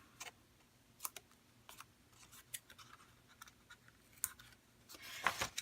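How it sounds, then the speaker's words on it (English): Scissors snip the corners and edges of scrapbook paper for a beach house 8x8 album, a dozen or so crisp, quiet cuts spaced irregularly, with a quick flurry at the end. "Snip the corner and fold. And snip the edges that stick out."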